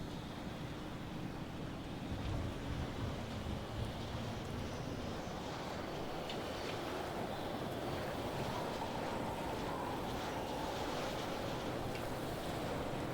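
Storm wind roars through the video game Pacific Drive, a steady broad rushing gust with surf-like swells that stays constant and fairly faint throughout, without talk.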